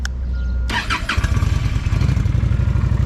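A Honda Shadow 750 motorcycle, a brand new bike with zero miles, cranks briefly, fires up loudly and settles into a close, steady, throbbing idle.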